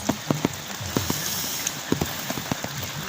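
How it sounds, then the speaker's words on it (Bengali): Heavy rain falls over a village, a steady hiss of drops on surfaces broken by scattered louder plinks and taps of drips landing nearby, continuous and close throughout. "প্রচুর বৃষ্টি হয়েছে"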